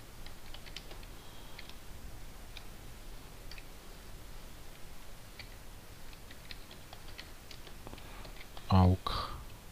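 Light typing on a computer keyboard while working in an Excel spreadsheet, soft scattered key clicks spread across the clip, faint and close, ending in a brief louder bump.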